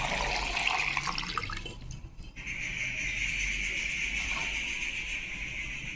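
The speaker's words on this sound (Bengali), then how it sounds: "জল দিয়ে দিচ্ছি।" Water pours into a pot for ash gourd murabba, a steady close splashing stream that runs through nearly the whole stretch with a brief dip partway.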